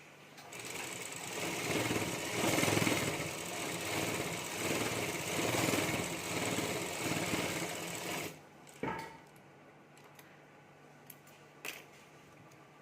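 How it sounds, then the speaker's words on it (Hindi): A normal home sewing machine stitching along fabric lining while making a potli bag runs in a steady, busy whir for about eight seconds, then stops, followed by a few small clicks and handling noises. "यहाँ अस्तर के ऊपर मैं एक सिलाई कर देता हूँ"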